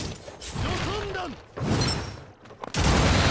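Nagato's rapid missile barrage jutsu in a Naruto fighting game fires in bursts, with metallic mechanical whirring, crackling volleys and sharp impacts that swell and drop away, ending in a loud blast.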